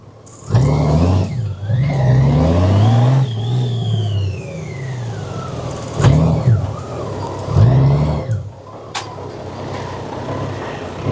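A Honda Gold Wing Outrider Edition motorcycle engine revs and settles during a U-turn, with several rising and falling bursts of close, moderately loud engine note, pitch sweeping up and down between quieter idle stretches.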